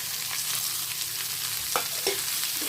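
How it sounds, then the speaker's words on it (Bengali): Onions frying in oil until browned, as the base for a village-style spiced bele fish curry, give a steady, moderate sizzle broken by a few short scraping stirs near the end. No one speaks. "পেঁয়াজগুলো লাল করে নেব লাল হয়ে গেছে পেঁয়াজ"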